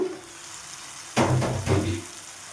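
Tomatoes stewing in a covered pan give a steady low sizzle, then a louder bubbling sputter surges in and swells twice, close up with no voices.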